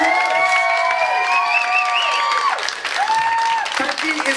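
A comedy club crowd applauds and cheers loudly, with sustained whoops and shouts over continuous clapping.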